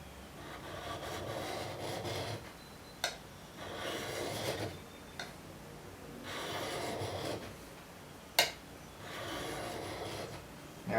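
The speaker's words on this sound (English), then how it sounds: "You can see the metal coming off on the ceramic stone there." Travisher blade being sharpened on a ceramic stone: repeated raspy rubbing strokes in bursts of a second or two, separated by short pauses and a few sharp clicks, close and moderately loud with no talking.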